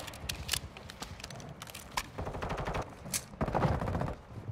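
Rapid bursts of automatic gunfire in Call of Duty: Modern Warfare II, clustered cracks and rattling volleys at moderate distance with brief gaps between bursts.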